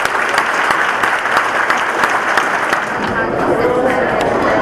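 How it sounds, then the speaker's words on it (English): Loud, sustained audience applause at a high school senior awards ceremony, steady dense clapping filling the hall for several seconds with crowd murmur mixed in. "Give him a round of applause"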